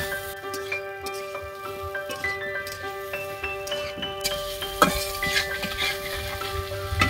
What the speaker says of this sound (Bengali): তো দেখো, আলু আর গাজরটা ভাজা হচ্ছে।